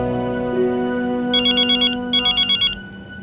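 A phone ringtone trills in two quick bursts of rapid electronic pulses, loud and close, over a low steady background hum.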